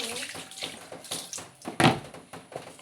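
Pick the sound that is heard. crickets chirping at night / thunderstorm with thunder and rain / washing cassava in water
washing cassava in water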